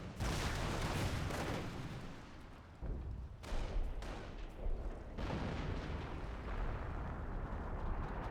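A 25-pounder artillery barrage in the game Company of Heroes, pounding an enemy base with heavy, continuous rumbling blasts that overlap into a dense roar, with a few distinct thuds standing out, loud throughout.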